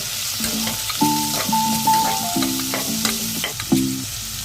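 Chopped shallots and garlic crackle in hot oil as a utensil stirs them, the scraping pan sounds coming in loud, rhythmic strokes over a constant sizzle, close up.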